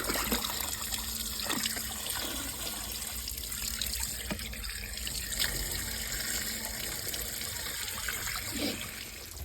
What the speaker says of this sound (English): what we've got now is hose filling up the water butt, a flow of water from here